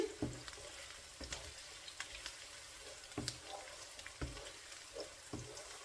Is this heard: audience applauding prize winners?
no